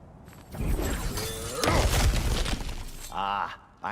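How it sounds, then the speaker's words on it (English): Breakable objects shatter in God of War Ragnarok gameplay, a burst of crashing and splintering debris with rumbling impacts, followed by a short voice near the end, fairly close and loud. "back to smashing through things for fun and profit"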